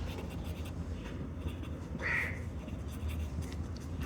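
Pen or pencil writing a maths solution set by hand on paper, a soft continuous scratching close by under steady background noise, with one brief brighter squeak midway.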